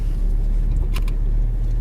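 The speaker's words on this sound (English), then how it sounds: "We're gonna let the car just sit here and idle for a minute." A Porsche GT3 sports car sits parked at an exotic racing track in California, its engine idling with a steady low rumble, close and continuous, with a brief higher whine partway through.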